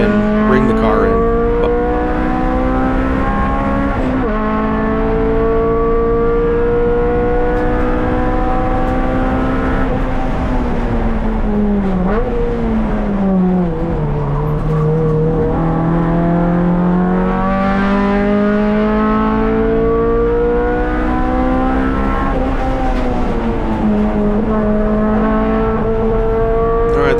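A Subaru race car driving on a track, its engine droning loudly with rising and falling pitch as it revs through gears and corners, continuous and close for the full length.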